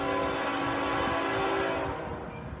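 Container freight train Q133 rolling past on a mainline, a steady loud rumble and rail roar that holds, then eases off toward the end with a brief high squeal.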